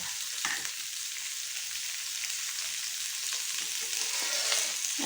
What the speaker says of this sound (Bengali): এটা একটু ভাজা ভাজা হলে একটু অল্প পাঁচফোড়ন আমি দিয়ে দিলাম।